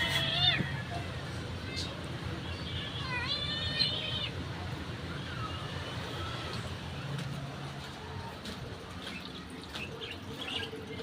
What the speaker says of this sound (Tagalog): yung kalapate binubugbog yung pusa